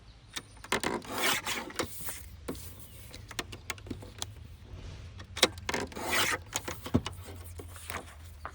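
Scissors and paper rasp and rustle as pages cut from old books are trimmed, a series of close, uneven snips and rubs with no speech.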